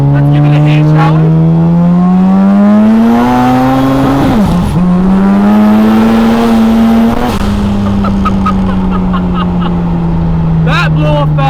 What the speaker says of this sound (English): That blow-off valve sounds extraordinary.